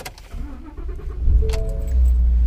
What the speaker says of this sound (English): Get the truck warmed up, get the CB radio on.